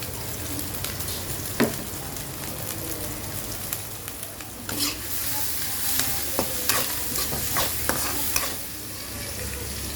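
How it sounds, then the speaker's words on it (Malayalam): Crushed spices and coriander leaves sauté in a pan, a loud, steady frying crackle punctuated by several sharp spatula taps and scrapes. "ബാക്കി ഒക്കെ അങ്ങോട്ട് ഇട്ട് നന്നായി വഴറ്റിയെടുക്കാം"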